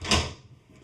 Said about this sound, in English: it's a French door style refrigerator